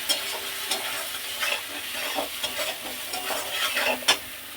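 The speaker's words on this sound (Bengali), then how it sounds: "এবার মশলাটাকে ভালো মতন কষিয়ে নেবো আমি" Spice masala of salt, turmeric, red chilli powder and cumin powder with ginger paste being stir-fried in a pan: quiet steady sizzling with repeated scraping stirs and a sharp clink near the end.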